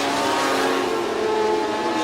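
Formula 500 speedway race cars roar around the Borderline Speedway dirt track, a steady loud engine drone with revving pitch held throughout, no voices.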